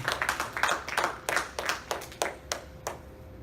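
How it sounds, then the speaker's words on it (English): Scattered hand claps from a small church audience after a performance, about a dozen sharp, separate claps in an uneven rhythm, fairly close. "can we just give God a clap offering right now"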